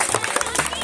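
Applause from an audience at a Bengali gaye holud wedding celebration, a short burst of dense crowd clapping mixed with murmuring voices.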